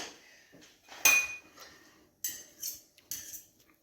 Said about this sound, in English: Stir that around a little.